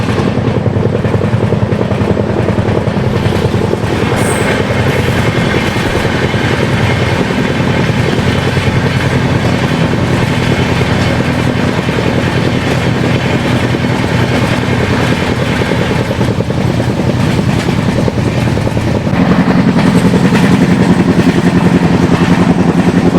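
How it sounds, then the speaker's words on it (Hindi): The Chennai–Bhagat Ki Kothi Express passes close by, a loud, continuous rumble and rattle of rolling wagons that holds steady and then shifts tone near the end, with no voices. "तो अभी सामने से आ रही है चेन्नई भगत की कोठी एक्सप्रेस।"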